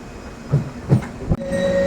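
Simhadri Express pulling out of Attili railway station, a few rolling wheel thumps and a sharp clank over steady rumble, heard close from on board.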